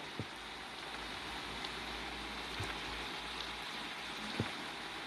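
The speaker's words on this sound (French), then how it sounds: "Et il recommence à pleuvoir." Steady rain falls in Euro Truck Simulator 2 as a truck drives a roundabout, a continuous broadband hiss with a few faint knocks, alone and moderately quiet.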